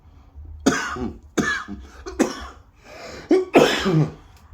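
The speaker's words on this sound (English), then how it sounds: "as soon as I like the blunt, I cough." A series of harsh, raspy coughs after smoking a blunt comes close to the mic, about five or six bursts with short gaps, with some throat clearing.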